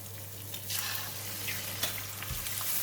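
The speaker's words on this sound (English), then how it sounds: "Cook the egg first." An egg fries in a little oil at the side of a pan, giving a continuous soft sizzle and crackle with faint occasional stirring scrapes and no talking.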